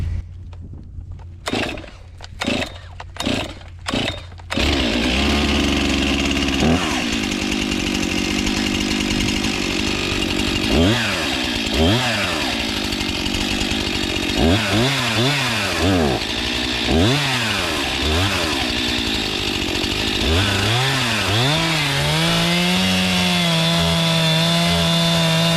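A STIHL chainsaw with a dull chain revs in a few short bursts, then runs continuously, labouring loudly as it struggles to bite through wood, its pitch dropping and rising with each push into the cut.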